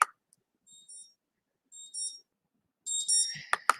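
A timer alarm goes off in a quiet room during a guided meditation: a few short, high beeping bursts spaced apart, then a louder cluster of electronic tones near the end, with no talk over it.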